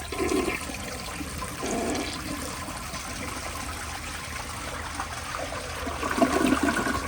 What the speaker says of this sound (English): let me give you all another flush